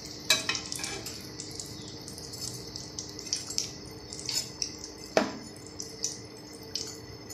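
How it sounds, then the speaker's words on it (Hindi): Filled potato balls frying in oil, a light continuous sizzle with frequent small pops and crackles, one louder clink of a utensil midway, close but fairly quiet, no talking. "ये देखें ये फ्राई हो गई हैं, बस इतनी सी इनको फ्राई करना है।"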